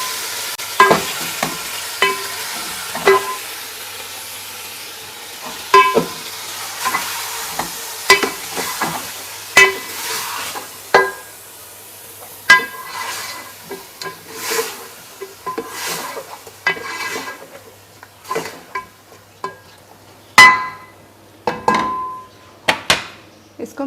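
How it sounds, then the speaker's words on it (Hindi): A kilo of goat mutton, bone-in and boneless pieces, fries for nihari in a pot with a low, steady sizzle, broken by repeated loud scrapes and knocks of a spoon stirring against the metal. "इसको मैं 4-5 मिनट के लिए भूनूंगी, जब तक गोश्त का कलर चेंज हो जाए"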